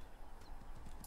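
Horse hooves clip-clop in the video game Assassin's Creed, a quick run of hoof beats heard close and clear for about a second.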